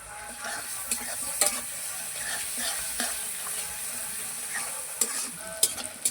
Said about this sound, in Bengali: এবার এতে টমেটো দিয়ে দেব।